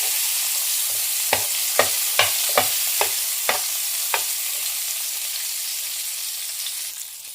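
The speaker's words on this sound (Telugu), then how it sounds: "ఎండు చేపలను కూడా ఫ్రై చేస్తున్నానండి." Dried fish frying in hot oil, a bright continuous hiss with a short run of sharp spatula taps against the pan early on, then a steady sizzle that eases off at the end.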